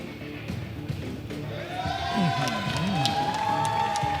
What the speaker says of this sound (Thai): ปรบมือให้ดัง ๆครับ